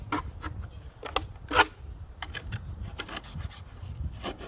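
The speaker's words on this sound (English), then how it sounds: "I'll use just a regular little scrape tool. I'll break off the bigger chunks of grass." A small hand scraper works caked grass off a Toro lawn mower, giving a series of short, dry rasping scrapes in an irregular rhythm, close by and fairly quiet.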